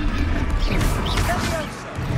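A Confringo blasting spell goes off in the Hogwarts Legacy video game, a crashing magical burst with whooshing sweeps, under game speech and dense combat noise.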